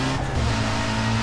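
A BMW car engine hums steadily in the video game Need for Speed: Most Wanted, a smooth mid-pitched drone at moderate volume with no voices.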